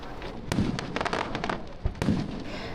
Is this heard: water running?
no